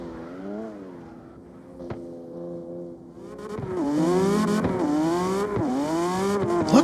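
A race car in qualifying powers through a corner, its engine note dropping as it brakes, then climbing hard and loud through rising revs with quick gear changes as it speeds away, no voices over it.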